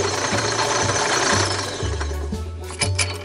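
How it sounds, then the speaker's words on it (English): A drill press fitted with a sanding drum grinds into MDF, a loud, steady abrasive whir with pulsing low hum that rises and drops as pressure changes. "There's a simple way of making a window in MDF using the drill press and the sanding drum"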